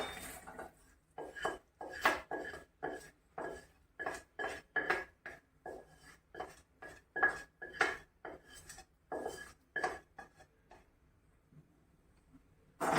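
A ladle stirs thick okkarai sweet in a heavy pan, producing steady, close scraping and knocking strokes in a quick rhythm for about ten seconds before fading, with no voices.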